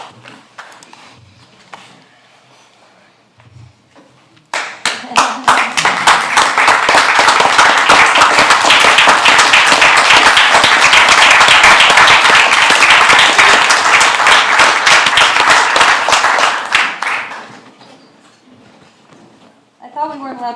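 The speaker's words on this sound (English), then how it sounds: "I thought we weren't allowed to clap in council." An audience at a council meeting breaks into loud, sustained applause lasting about thirteen seconds before fading out, with quieter room sounds and faint voices before and after.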